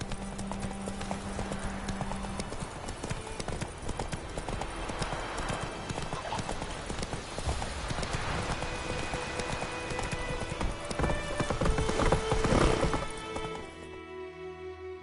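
Roach the horse gallops in The Witcher 3, rapid hoof clip-clop running steadily for most of the stretch with a brief whinny and game music beneath, fading out near the end.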